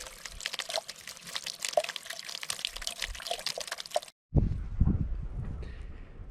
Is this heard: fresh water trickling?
yes